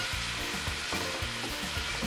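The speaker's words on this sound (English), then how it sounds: "We're going to saute this shrimp now" Shrimp sautéing in a hot pan gives a steady, close sizzle and crackle of frying, with light stirring or scraping sounds mixed in and no talking.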